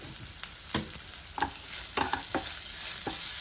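Drumstick leaves stirred and fried in a pan, with irregular scraping strokes of the spoon over a steady close sizzle and no voices.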